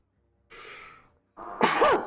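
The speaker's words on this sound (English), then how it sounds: "to sneeze" A single loud sneeze with a drawn-in breath before it and a sharp, high burst at the end, close by.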